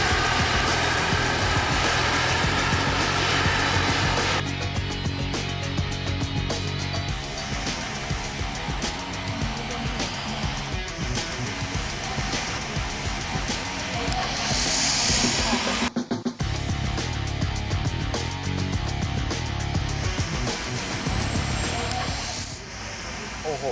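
An RC F-14 Tomcat scale model jet flies overhead, its turbine giving a steady, loud roar with a high whine that sweeps in pitch as it passes, briefly cutting out and then returning.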